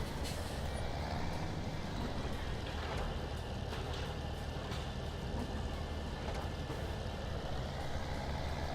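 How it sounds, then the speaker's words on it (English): A Case tractor pulls a round baler in the Farming Simulator 17 video game, a steady, dense engine rumble with faint clanks and rattles throughout, no voices. "Keep it up, Case Tractor. It's actually pulling it fairly well."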